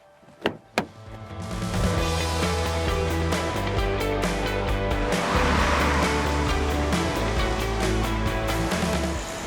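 A 2024 Kia Sportage diesel SUV drives on the road, its steady engine and road noise rising after a couple of brief knocks at the start and holding loud and even throughout, with no talking.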